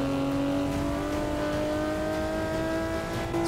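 A 1963 Ferrari 250LM's engine in the Forza 6 racing game holds a steady, loud drone with a faint slow climb in pitch over a few seconds, with no pauses and no voices.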